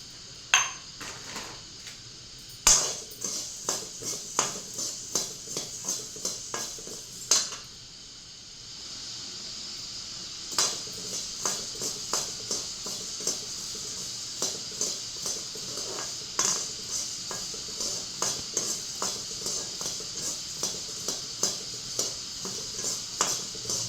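Rasam powder spices dry roasted in a pan: a spoon scrapes and taps the metal in a steady, repeated rhythm for a long stretch, with a few louder knocks and a faint sizzling hiss underneath.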